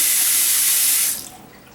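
An American Standard bathroom faucet runs with a loud, bright hiss of water, then is shut off abruptly about a second in, leaving only faint room noise.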